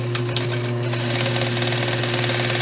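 Sewing machine running steadily and close by while top stitching near the edge of a stretchy headband, a continuous mechanical whir with a rhythmic needle chatter and no pauses.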